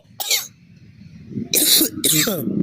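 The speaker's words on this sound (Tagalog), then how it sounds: "excuse me po sa aking ubo" Several sharp, close coughs burst out, one single cough followed by a harsher double cough, from a person talking between them.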